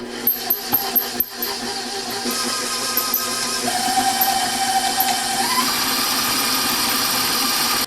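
Electric mixer whipping sugar, melted butter and vanilla into a light, fluffy batter, a steady close motor whir with a few sharp clicks at the start and a pitch rise partway through, no talk.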